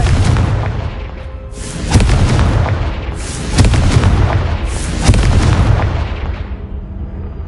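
Confringo spell explosions in the Hogwarts Legacy video game, several loud booming blasts in succession, each a broad rumbling burst that swells and decays, with no voices over them.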